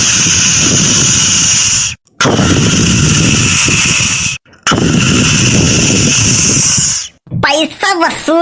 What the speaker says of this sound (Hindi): ई देखो आई गे चरखी, ई नाची अब गन गन गन गन